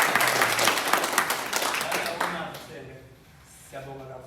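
Audience applause at a media briefing for Ingoma Kazwelonke, a dense, loud clapping crowd for the first two and a half seconds that then thins out and fades, with voices talking over the tail.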